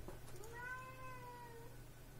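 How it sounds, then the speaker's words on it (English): A house cat gives a single drawn-out meow lasting about a second, clear and fairly close over a low background hum. "Shut up, cat."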